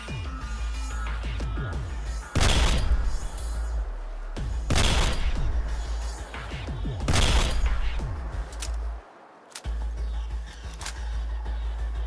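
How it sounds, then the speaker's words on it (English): A modded Rheinmetall energy rifle fires in the game Fallout 4: three loud, heavy blasts a few seconds apart, each followed by a booming rumble over a continuous low drone, with game sound effects between shots. "it still has its several firing modes, aka ammo types, including the awesome BFG-like huge energy explosion"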